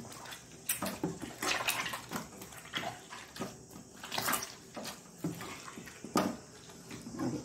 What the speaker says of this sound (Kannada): ಸ್ವಲ್ಪ ನೀರನ್ನು ಹಾಕಿ ಚೆನ್ನಾಗಿ ಕಿವುಚೋಣ